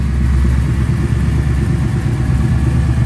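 A 1933 Ford five-window street rod sits idling, its engine giving a smooth, steady low rumble close by and fairly loud, with no voices over it.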